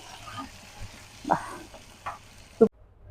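Coriander and tomato pickle is stirred into a hot oil tempering with asafoetida. A soft, low sizzle runs under a few scraping spoon strokes, and the last stroke is sharp before the sound cuts off abruptly.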